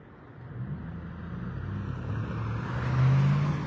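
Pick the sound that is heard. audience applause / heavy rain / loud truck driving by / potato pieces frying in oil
loud truck driving by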